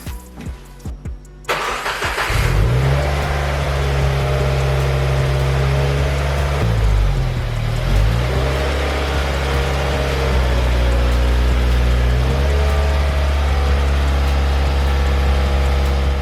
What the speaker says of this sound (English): Let me pull the car in and show you guys what that looks like.